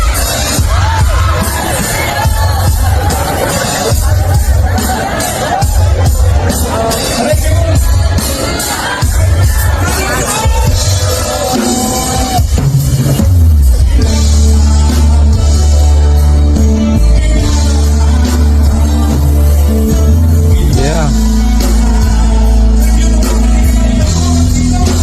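Crowd at a live concert, loud cheering, whoops and shouting over booming band music, dense and sustained, growing heavier and louder in the second half.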